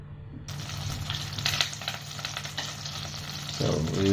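Butter melting in a pan over the flame, sizzling and crackling steadily with a low hum underneath, the frying growing louder toward the end.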